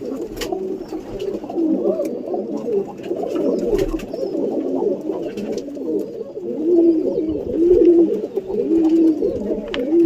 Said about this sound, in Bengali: আমার এখানে কিছু পায়রা আছে, তো দেখলে আপনাদেরও ভালো লাগবে